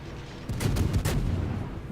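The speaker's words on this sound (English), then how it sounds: "full salvos and then walking the shells onto him and firing them individually" Ship guns firing shells in World of Warships, a heavy booming salvo with rolling low rumble and a couple of sharp cracks, loud and close, without talk.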